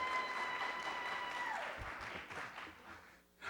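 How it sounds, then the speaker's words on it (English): Audience applause at a school parent-student night for Montgomery College, a steady wash of clapping that gradually thins and fades toward the end. "You're giving some pretty good rounds of applause there."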